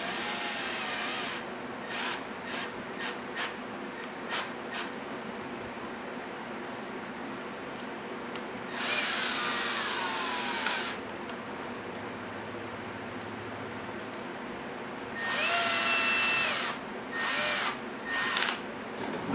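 Cordless power drill driving screws into a Losi Super Baja Rey 2.0 RC truck: a series of short, sharp whirring bursts, then two longer sustained runs, close and loud against a quiet room.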